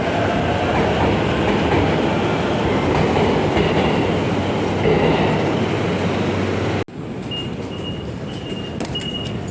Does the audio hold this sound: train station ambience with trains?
yes